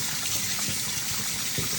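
Cold water pours steadily over cooked shrimp pasta in a strainer, a close, continuous hissing trickle and splash with no voices.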